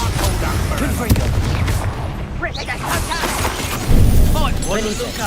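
A Confringo fire spell explodes in the Hogwarts Legacy video game, a booming blast around the four-second mark amid continuous game noise, music and other combat effects.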